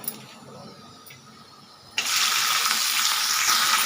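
Ridge gourd peel pieces drop into hot oil and start frying for a tomato-style gourd peel chutney, the quiet pan suddenly bursting into a loud, steady broadband sizzle halfway through that holds to the end.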